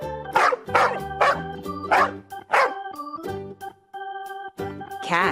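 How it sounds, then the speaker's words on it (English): A dog barks five times in a fairly even rhythm, sharp and close, over light background music, followed by a couple of softer yips near the end. "Dog."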